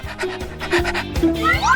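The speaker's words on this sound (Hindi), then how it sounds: "और अब मेरे पास आओ मेरे वफादार पपी" A puppy pants close up in quick, rhythmic breaths, with a few squeaky whining tones rising near the end.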